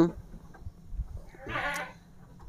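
An Etawa crossbreed (PE) goat gives one clear, wavering bleat midway, over quiet background rustle and faint voices.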